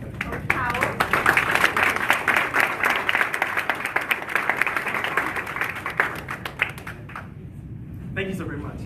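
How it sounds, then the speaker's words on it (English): An audience at a leadership talk breaks into sustained applause, dense clapping that runs for several seconds before thinning out and fading, followed by a voice starting to speak. "So please give me your hands of applause."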